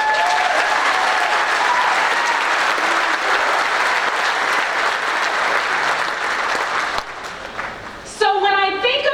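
Graduation crowd applauding at a technical school ceremony, a long full wash of clapping that thins out near the end before a voice takes over.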